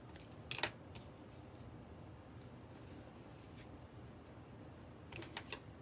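Wire cutters snip a tiny hook off the wire of a deco mesh Christmas wreath, two short sharp clicks close by, one near the start and another near the end, over quiet room tone.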